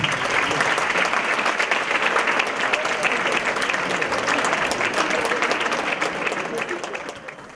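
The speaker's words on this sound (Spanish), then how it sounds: "Fuerte el aplauso" Sustained applause from a seminar audience welcoming a guest speaker onto the stage, loud and dense throughout, fading slightly toward the end.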